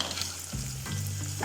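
Food fries briefly in a pan while cooking restaurant-style chilli chicken, a faint hiss and crackle with a low hum and a few soft clinks over a short span.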